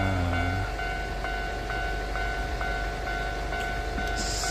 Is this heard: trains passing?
yes